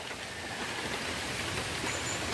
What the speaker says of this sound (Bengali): আবার বৃষ্টি এসে গেছে খুব জোর।